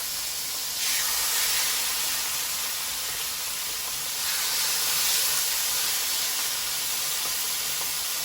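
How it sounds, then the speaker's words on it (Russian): Chicken breast sizzles skin-side down in a hot pan, a steady broadband hiss that swells twice for a few seconds, with no voices. "жарить нужно просто до золотистой корочки"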